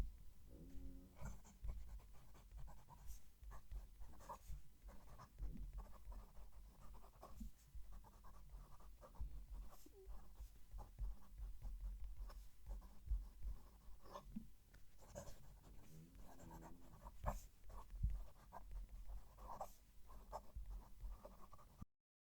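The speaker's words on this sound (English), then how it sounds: "We'll move the mic for the writing sample." A fountain pen with a stiff nib writing on lightly coated Rhodia paper, a close, continuous scratchy scribbling of strokes and pauses, recorded with the mic placed near the page.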